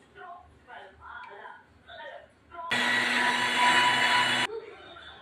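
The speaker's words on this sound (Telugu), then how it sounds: "ఇప్పుడు మిర్చి వేసి మిక్సీ పట్టుకోవాలండి" A kitchen mixer grinder whirs loudly for about two seconds, grinding green chillies for an ivy gourd chutney, then cuts off abruptly. A person talks just before it starts.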